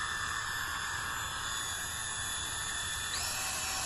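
A cordless electric spin shower scrubber with three speed settings whirs at a steady high pitch, close and constant, with a brief shift in tone near the end.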